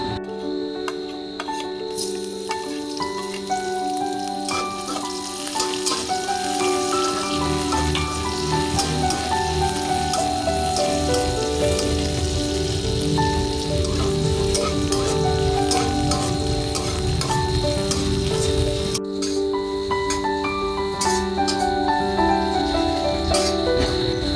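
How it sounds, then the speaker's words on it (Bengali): Onion and garlic fry in oil in a pan for Bengali masoor dal with drumstick leaves, a continuous bright sizzle with ticking crackles and occasional stirring scrapes, close and steady throughout without speech. "তো দেখো পেঁয়াজ রসুনটা এরকম করে ভেজে নিয়েছি"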